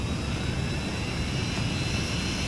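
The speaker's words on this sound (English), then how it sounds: "The plane is going down very fast." Falling airplane in the game Roblox, a steady, loud jet engine drone with a broad hiss and hum holding unchanged throughout.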